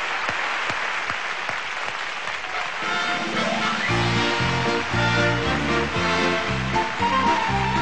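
Strong audience applause at a concert, a continuous wash of clapping that carries on as a band starts playing underneath it.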